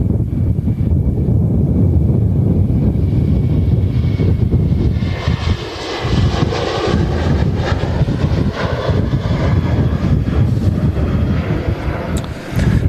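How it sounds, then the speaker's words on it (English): A Corendon airliner on its takeoff roll at Manchester Airport gives a loud, sustained engine roar with heavy low rumble, close and steady, mixed with gusty wind buffeting the microphone. "Correndon halfway through his takeoff roll."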